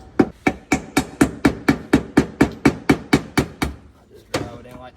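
A tool is driven into a Ford 6.7 PowerStroke injector grommet with a rapid, even series of about fifteen sharp metallic taps over five seconds, followed by a short clatter.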